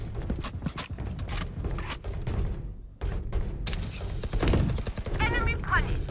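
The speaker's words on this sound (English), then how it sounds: "Reloading." Weapon reloading in the video game Valorant, quick mechanical clicks and clacks of the gun action mixed with bursts of gunfire and game effects, fairly close and sharp, with a voice speaking briefly.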